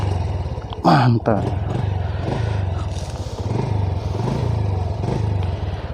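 A Honda Blade manual-clutch motorcycle is kick-started with a clattering thump, then its engine settles into a steady, close, loud idle with a rhythmic putter, while someone speaks briefly.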